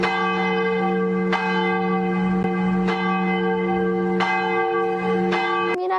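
Bell ringing with a steady sustained tone and repeated strikes, carrying on for several seconds with no talk, as used for a Mexican Independence Day grito celebration.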